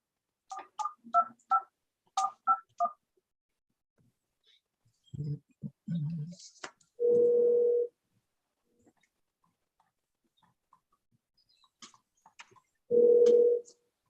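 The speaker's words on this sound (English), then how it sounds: "If, Ted, if you can call him from your office and put him on speaker" A desk telephone dials out on speakerphone in a courtroom video meeting: a quick run of keypad tones, then a short burst of noise, then two long ringback tones several seconds apart, with no one talking over them.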